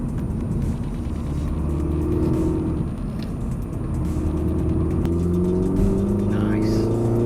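A Mini Cooper S John Cooper Works engine revs hard and steadily at close range, its droning exhaust note rising in pitch and carrying a few crackling pops and bangs over the rumble.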